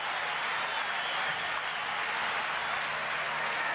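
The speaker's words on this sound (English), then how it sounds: "Crowd whooping it up." A baseball crowd at Dodger Stadium roars in a steady, dense wash of cheering and whooping during a Reds game, sustained and fairly loud throughout.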